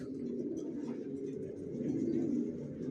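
Young racer pigeons bred for sale give soft, continuous cooing, a low rolling murmur from several birds close by.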